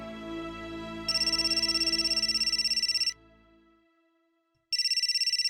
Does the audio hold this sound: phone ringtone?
yes